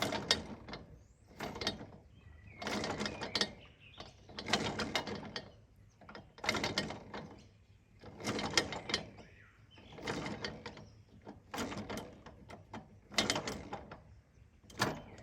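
A caravan jockey wheel being wound up by hand, giving repeated ratcheting mechanical bursts in a steady rhythm of turns with short pauses between, close and fairly quiet.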